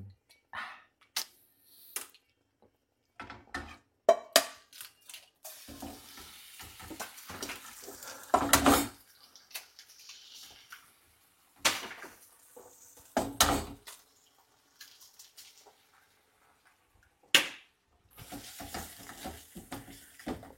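Eggs are cracked and cooked in a pan for an omelet, with sharp taps and cracks, clatter, and bursts of frying sizzle spread across a quiet kitchen.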